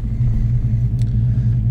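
A 1985 Chevrolet C10 Silverado pickup truck drives along with a loud, close, steady low engine rumble and a slight wavering drone, with no talking.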